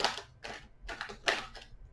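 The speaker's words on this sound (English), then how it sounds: "One more shuffle." Quick papery riffles come in four or five short bursts, close and crisp, as a deck of tarot cards is shuffled by hand.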